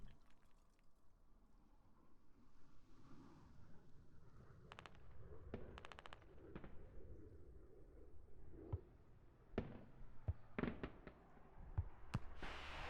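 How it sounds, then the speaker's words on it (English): Mortar explosions in a competitive online shooter match, heard as a series of sharp distant blasts and cracks scattered over a steady low game background, growing more frequent toward the end, with no talk over them. "You see those mortars being called out."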